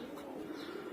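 A pigeon in a loft gives a low, rolling coo lasting about a second, close and steady with no other sounds.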